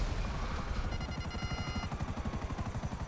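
Helicopter rotor noise from GTA Online, a loud, steady, rapid thudding chop running continuously near the listener, with a brief high engine whine layered over it partway through.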